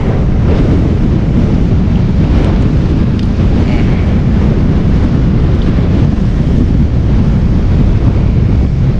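A constant heavy wind buffets the microphone while fishing at sea, loud and rumbling throughout, with a faint watery wash underneath.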